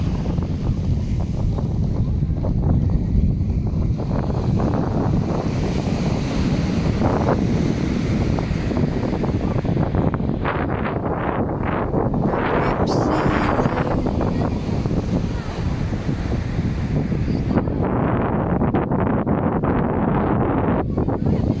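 Sea waves and strong wind on the shore at Infanta, Quezon, a steady loud roar of surf with heavy wind buffeting the microphone throughout, no voices.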